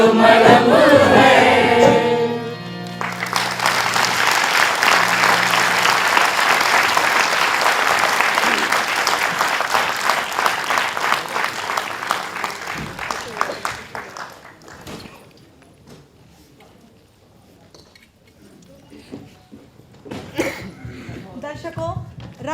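A theatre audience bursts into sustained, loud applause at the close of a stage play, dense clapping fading over several seconds, preceded by singing and followed by a voice addressing the hall.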